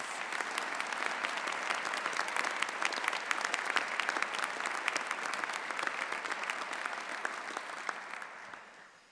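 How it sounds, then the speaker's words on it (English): An audience at a university investiture ceremony gives a long round of applause, a dense, even roar of many hands clapping that carries on steadily and fades away at the close. "Would you please show them your appreciation with a round of applause?"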